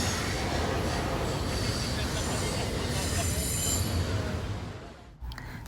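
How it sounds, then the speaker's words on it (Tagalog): A train rolls past on the rails with a continuous loud rumble and high metallic wheel squeal, holding steady before fading away near the end. "So ayan, pauwi na kami pero train pa rin ang aming nakakasalubong."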